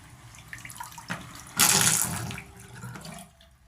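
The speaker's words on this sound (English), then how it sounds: "Now the next thing I'm going to do is I'm going to drain the water." Water pours and splashes out of a UCO waterproof match case as it is drained, a loud gushing burst in the middle that tapers off into trickling, with a few small knocks before it.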